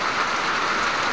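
Sudden heavy rain in a rural farming area, a dense unbroken hiss of downpour, loud and steady across the whole brief moment with no voices.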